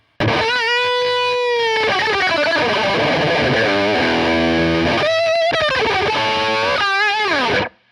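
Heavily distorted electric guitar played through the lead channel of a Peavey Invective 112 tube amp, fast shredding lead lines with bends and quick runs, loud and continuous with brief gaps.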